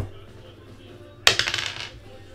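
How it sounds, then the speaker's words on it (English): Dice dropped onto a hard surface for a random draw: a sharp first impact, then a quick series of rattling bounces that die away within about half a second, after a quiet lead-in. "Let's go to roll the dice and see how many times we'll be spinning the names and the teams."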